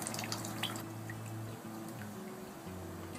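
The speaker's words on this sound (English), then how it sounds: "Now we're going to unclip the screen and squeeze out the rest of the water." Water drips and trickles steadily as it is squeezed out of fresh spirulina paste through a screen, a faint close patter of small drops under a low steady hum.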